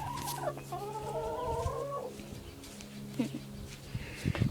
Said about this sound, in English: Alright, we're at the chickens and look at them.